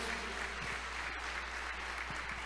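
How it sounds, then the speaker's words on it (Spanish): A church congregation applauds during a sermon, a fairly faint but steady wash of clapping over a constant low hum, with no talk over it. "Dele aplausos a Dios."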